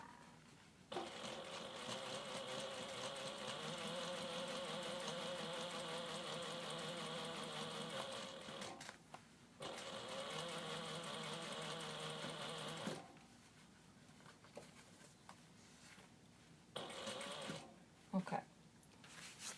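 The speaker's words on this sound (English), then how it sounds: "we still have to top stitch the second side of it" A sewing machine top-stitches a fabric clutch bag, running in a steady, fast mechanical whir for long stretches, stopping briefly and restarting, then ending with short bursts and faint handling noises; the sound is soft and close.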